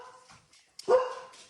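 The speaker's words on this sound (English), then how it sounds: "I have a barking dog" A deaf pet dog barks once, a single loud, close yelp that cuts through a quiet room, followed by a short trailing whine.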